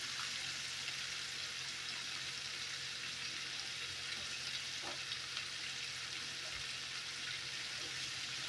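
Smoked sausage links fry together with cabbage in a pot, a steady close sizzle with a few soft stirring knocks and no voices.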